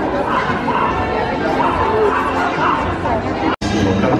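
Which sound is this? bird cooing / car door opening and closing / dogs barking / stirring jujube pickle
dogs barking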